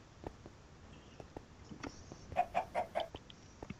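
Voices imitate a chicken's clucking in a Minecraft roleplay, with scattered soft clucks and then a quick run of four louder, rhythmic clucks near the end.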